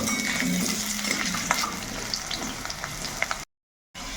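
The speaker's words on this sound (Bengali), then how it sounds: "এখন এই আলুটা তেলের মধ্যে একটু ভেজে নেব" Long-cut potato strips frying in hot oil, a steady close hiss with occasional crackles and pops, no talk, ending in a short gap of silence before the sizzle returns.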